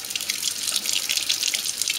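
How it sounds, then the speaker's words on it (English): Hot water running hard from a kitchen sink tap, a steady, close, hissing splash that continues unbroken without any voices. "take it over your sink and you put it under some really hot water"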